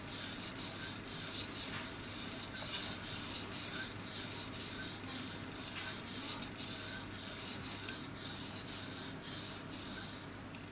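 Small blade being sharpened on a long, wide Belgian blue coticule whetstone, with steady rhythmic rasping strokes, about two per second, close and clear with no talk.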